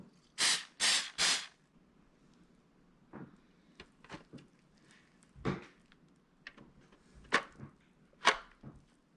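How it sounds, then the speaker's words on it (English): Canola oil cooking spray hisses onto small baking pans for banana nut bread in three quick close bursts, followed by faint scattered handling clicks and taps. "I'm gonna give our little pans a quick spray with this canola oil."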